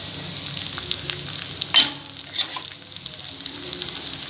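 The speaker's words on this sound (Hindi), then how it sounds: "अब इसे हम तड़का लगाएंगे" Hot oil sizzles and crackles steadily as a tadka is tempered for masoor dal, with a sharp burst of spattering as something drops in, then settles back to a constant fry.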